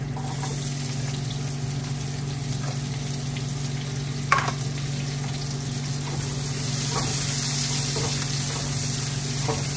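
An onion frying in a pan for a Filipino pechay, tofu and cabbage sauté, giving a loud, steady crackling sizzle throughout with a brief utensil clink midway.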